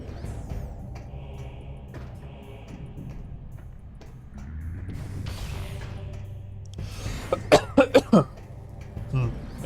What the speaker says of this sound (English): That was a wheezy cough.